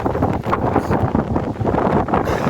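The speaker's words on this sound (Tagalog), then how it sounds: "Ang lakas ng hangin." Strong wind sweeps across a rock formation, buffeting the microphone with loud, gusty roaring that surges and dips irregularly from moment to moment.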